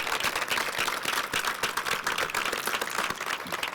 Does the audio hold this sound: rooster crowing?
no